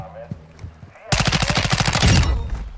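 Rapid automatic gunfire from enemies in a shooter game, a dense, loud burst of evenly spaced shots that starts abruptly after a quieter stretch and keeps firing to the end.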